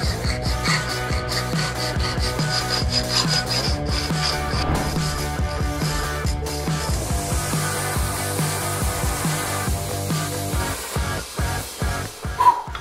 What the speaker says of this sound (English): Now, I've never hand filed meteorite before.